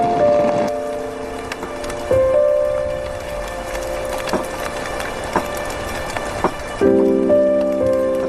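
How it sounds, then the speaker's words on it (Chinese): Rain falls steadily outdoors in a historical drama scene, a continuous soft hiss with woody patters, heard beneath sustained music tones throughout. "侧面下雨了"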